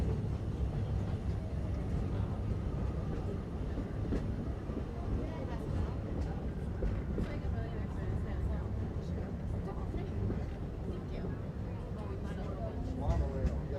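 Disney Magic Kingdom monorail rolling through Tomorrowland, a steady low rumble and rattle of the train cabin throughout, with voices talking aboard over the continuous ride noise.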